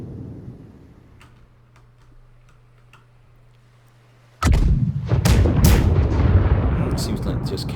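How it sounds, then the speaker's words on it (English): Ship cannons fire in a naval battle video game: after a quiet stretch of faint ticking, a sudden loud blast opens a dense barrage of booming shots and crashes. "Seems like just camping there to shoot some cannons."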